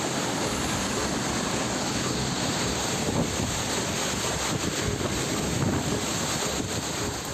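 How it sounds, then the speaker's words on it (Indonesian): Heavy rain lashes down with strong gusting wind over a housing area during a storm, making a loud, continuous rushing roar with buffeting bursts against the microphone. "Inilah video amatir hujan disertai angin kencang"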